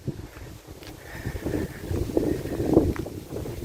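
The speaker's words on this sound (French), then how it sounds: "Il y a un vent, un petit vent, quoi, pas un gros vent." A light breeze blows outdoors in the Loire countryside near Rozier-en-Donzy, a soft, gusty rumble of wind against the microphone with faint rustling that swells gradually, and no voices.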